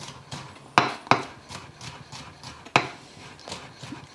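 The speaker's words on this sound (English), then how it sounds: "We just want to slice that garlic up" A knife slices garlic cloves on a cutting board for a pork shoyu ramen, giving a series of sharp, close knocks in an uneven rhythm with softer taps between them.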